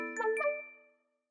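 A bright two-tone notification ding-dong chime rings out clearly on its own, its tones sustaining briefly before fading to silence within about a second.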